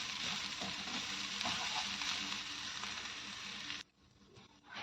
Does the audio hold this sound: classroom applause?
no